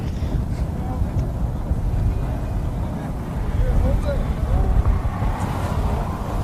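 Wind buffets the microphone at a lacrosse game with a steady low rumble throughout, and a voice talks faintly beneath the roar.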